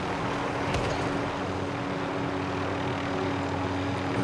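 Steady droning helicopter engine hum with a rotor-like rumble in the video game Warzone, continuous and fairly loud throughout, no voices.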